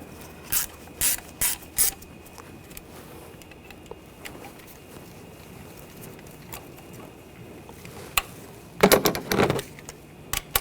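A hand ratchet tightens spark plugs on a Buick Encore engine, giving short bursts of clicking at the start and a louder cluster of rapid clicks near the end, with quiet shop background between.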